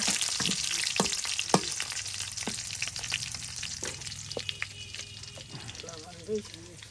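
Fish with chili and turmeric powder sizzles and fries in a pan while being turned, with scraping stirs and clinks over a steady crackle, and a voice speaks over it.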